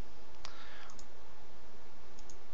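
A single sharp mouse click as the save button is pressed, followed by a couple of faint softer clicks, over quiet room hiss with no talking.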